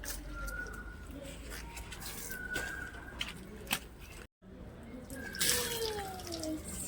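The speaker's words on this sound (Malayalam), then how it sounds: "ചെടിക്ക് വെള്ളം ഒഴിക്കാൻ പോവാണ്." Water pours and splashes onto potted plants, a steady wet trickling and spattering that runs throughout, briefly cut off midway, with faint background noise.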